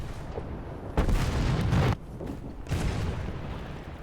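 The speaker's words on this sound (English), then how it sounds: "I thought this cannon was better than that." Heavy tank cannon shots in a video game, two loud booming blasts about two seconds apart, each with a rumbling tail over low game ambience.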